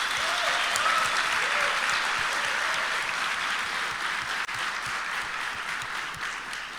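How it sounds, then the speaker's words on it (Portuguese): A live audience at a lecture claps together in a sustained, dense round of applause that stays loud throughout and eases slightly near the end, with a few faint voices mixed in. "eu quero dar uma salva de palmas para vocês aí pela presença de vocês"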